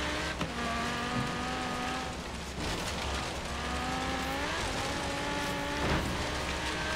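Racing car engine in the video game Forza Horizon 3, a sustained roaring drone with rising and falling engine pitch as gears shift, steady and fairly loud with no talk.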